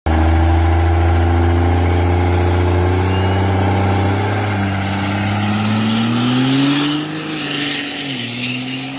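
A 1976 Cadillac DeVille pro street car idles loudly up close with a deep, rumbling burble, then the revs gently rise and fall back toward the end.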